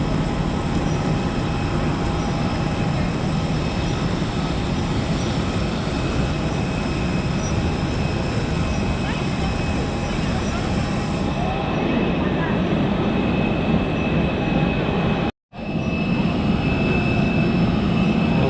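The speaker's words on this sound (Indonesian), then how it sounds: "Nah, ini dia teman-teman pesawatnya." An airplane at an Indonesian airport: a loud, steady roar of jet engine noise that fills the whole stretch, with one brief dropout near the end.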